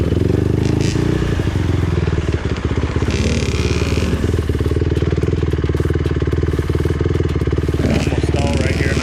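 Dirt motorcycle engine revving loud and close as the rider wheelies over a log on a trail, with clattering and scraping from the bike throughout.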